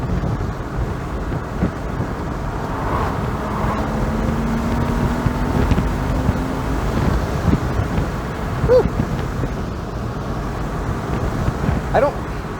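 A car's engine drones low and steady from behind the cabin while driving, blended with constant road rumble and wind buffeting, and a few faint knocks and squeaks pass by.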